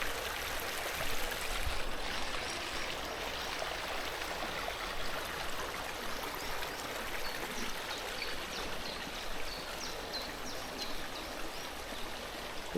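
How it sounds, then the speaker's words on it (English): Water runs steadily down decorative waterfall features at a holiday park, a constant hissing splash and trickle at moderate distance with no voices. "These lovely waterfall features here."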